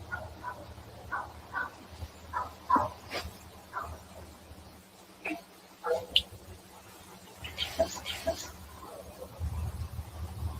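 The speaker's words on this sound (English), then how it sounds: "Is there a dog barking as well on that one?" A dog barks and yips in short, scattered bursts, faint and somewhat distant in a played-back outdoor recording over a low background hum.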